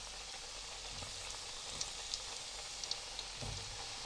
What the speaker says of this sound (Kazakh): Екі жағы да қызарғанша жақсылап қуырып аламыз